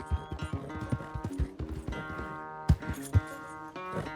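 Horse galloping in Red Dead Redemption 2, a steady run of close, loud hoof clip-clops with a few stronger thuds, set against a busy harmonic game score.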